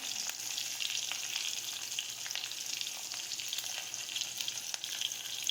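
Cumin seeds, green chilies and asafoetida sizzling in hot oil for a cabbage and potato sabzi, producing a continuous, even, crackling fry hiss, close and moderately loud with no voices.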